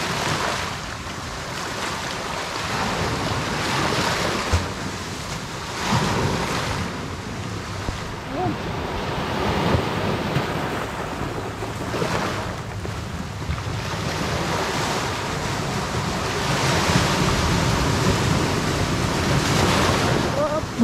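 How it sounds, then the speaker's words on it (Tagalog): Strong sea waves crash on the shore at sunset in a steady, loud surf roar with gusting wind buffeting the microphone throughout. "Ang lakas ng dagat namin ngayon"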